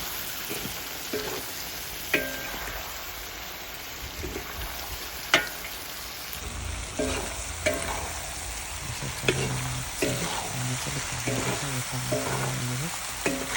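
Pork curry with blood cooks in a pan under a constant hissing sizzle, with a spoon scraping and knocking against the metal in repeated strokes that grow busier partway through.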